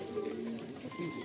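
A racing pigeon coos softly and repeatedly at close range, a low burbling call under a steady bed of background noise.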